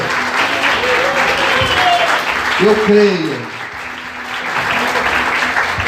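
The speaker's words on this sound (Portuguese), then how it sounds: "Quantos podem aplaudir, exaltar e glorificar ao Senhor por isso?" Church congregation applauding during an evening worship service: dense, steady clapping fills the whole stretch, with a voice and a few sung or called-out tones rising over it.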